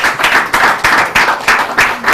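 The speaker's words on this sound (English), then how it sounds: "a round of applause for them" A small group claps for a quiz team at a Bible contest, rhythmic close handclaps in regular bursts that pulse roughly four times a second, with no speech.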